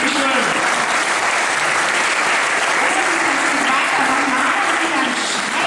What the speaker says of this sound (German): Und wir bedanken uns mit einem Applaus beim Hessen Helmut.